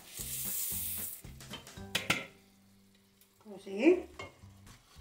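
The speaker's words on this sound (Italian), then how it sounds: "lo vado a mischiare in modo che lo facciamo un po' saltare e mantecare con tutti gli ingredienti" Rice being stirred and sautéed in a pan with cooked vegetables for a mushroom and pea risotto, giving soft scraping stirs and light sizzle in bursts, with a brief spoken word near the end.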